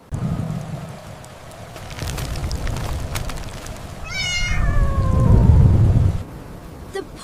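A kitten gives a high, wavering meow over steady rain and a low rumble of thunder that swells louder, then fades.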